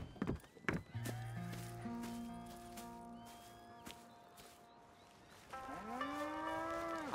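Cattle on a farm in Red Dead Redemption 2 give a long, low moo near the end, with a shorter lowing earlier. A steady ambient hum and some soft thuds sit beneath.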